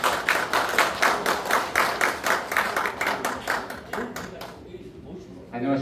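Audience applause at a residents' information session on a station-area urban redevelopment project, a crowd clapping briskly for about four seconds before it tapers off into room murmur.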